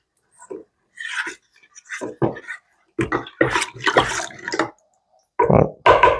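Honey water is poured into a tub to make traditional mead, in uneven splashy gushes broken by short pauses, close and fairly loud, with a longer sloshing pour in the middle and a final burst at the end.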